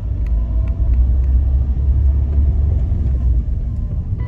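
Steady low road rumble of a car driving, a continuous close engine and tire drone from inside the vehicle with no talking.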